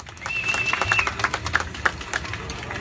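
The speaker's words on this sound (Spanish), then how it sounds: "¿Aplauso para Yanalí?" A small audience claps for a child at a neighborhood Children's Day party, a thin, scattered patter of hands with a few sharper claps standing out, moderately close and fairly quiet, with a steady high tone running underneath.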